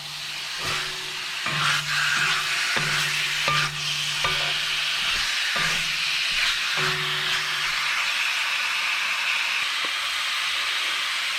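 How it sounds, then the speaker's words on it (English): Steady hiss and crackle of vegetables frying in hot oil, with intermittent scraping and stirring against the pan for several seconds. "Frying the vegetables in the oil first"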